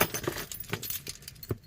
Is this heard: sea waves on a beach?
no